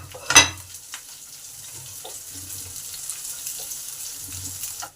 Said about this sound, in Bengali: পেঁয়াজটাকে ভালো করে লাল লাল করে ভেজে নিতে হবে।